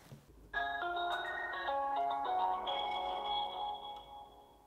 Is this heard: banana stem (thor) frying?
no